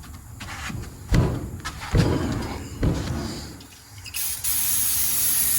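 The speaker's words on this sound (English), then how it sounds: "Spray that down, let that sit up here." Cleaner is sprayed on a Masterbuilt smoker tray in several sharp hissing bursts with dull thumps between them, ending in a longer continuous hiss close by.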